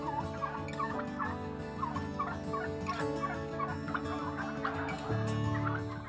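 Many turkeys on a turkey farm gobbling and clucking together, a dense overlapping chorus of warbling calls that swells louder near the end, close by with a constant low background hum.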